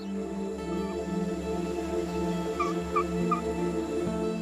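A few short gobbling calls from a turkey, moderately close, over a steady droning hum, with a couple of brief warbling bursts near the end.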